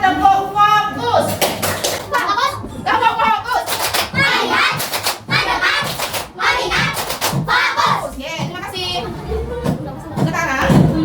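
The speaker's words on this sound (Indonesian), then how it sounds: "Sekarang kita tepuk fokus." A school class does rhythmic focus clapping, a loud close group of sharp claps in quick patterned bursts, mixed with children's and a teacher's voices throughout.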